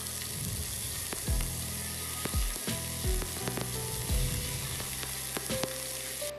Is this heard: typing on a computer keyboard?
no